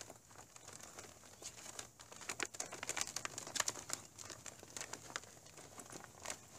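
A plastic windshield guard on a vehicle being rolled up, giving a steady run of close crinkling and crackling with sharp little snaps scattered throughout, moderately quiet.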